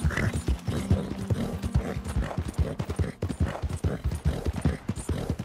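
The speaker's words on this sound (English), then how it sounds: "I love randomly riding through this world and just kicking animals with my horse." Horse hooves clip-clop steadily while riding in the open-world Western video game Red Dead Redemption, a fast, loud rhythmic patter of hoof strikes running continuously through the whole stretch with game ambience underneath.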